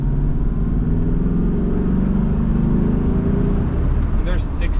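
A 1970 Mercedes-Benz 300SEL 6.3 pulls hard in second gear, its big engine roaring loud and steady from inside the cabin, with a rising drone and brief road noise near the end.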